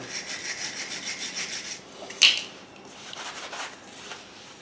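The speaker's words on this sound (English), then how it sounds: "I'll just keep scrubbing inside here now." A brush scrubs interior floor grout up close in quick, rhythmic rasping strokes, with one sharp knock midway before the scrubbing resumes more softly.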